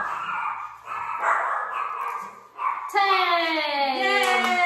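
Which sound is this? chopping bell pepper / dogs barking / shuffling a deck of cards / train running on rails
dogs barking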